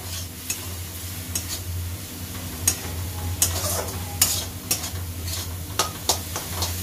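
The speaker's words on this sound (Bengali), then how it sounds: "জল দিয়ে মশলাটাকে একটু কষে নেবো।" Spice paste fries with a splash of water in a kadai, a steady close sizzle under repeated scraping stirring strokes and light clicks of a spoon against the metal.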